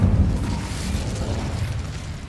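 An Incendio fire spell from Hogwarts Legacy bursts out with a loud whooshing blast at the start, then settles into a softer rumbling roar that fades over a couple of seconds.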